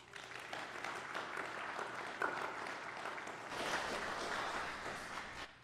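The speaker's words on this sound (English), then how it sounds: "Give him some applause." A church congregation applauds the minister of music during a Christmas lessons and carols service, sustained clapping that swells louder toward the end and then fades.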